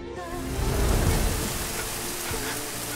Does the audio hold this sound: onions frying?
no